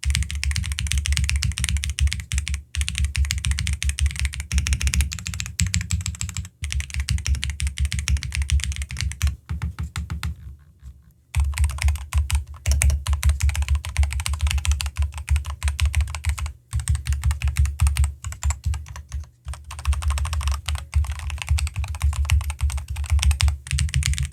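Rapid clacky typing on an Epomaker Ajazz AK820 Pro mechanical keyboard, close and loud, in bursts with a few brief pauses.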